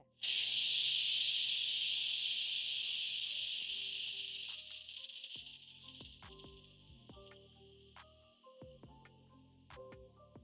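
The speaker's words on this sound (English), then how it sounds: "I'm going to be using my spatula to remove the pressure" A pressure cooker holding beef tikka masala vents steam in a loud, steady hiss that fades over several seconds, followed by quiet clicks and small rattles as the release valve settles; near and without talk.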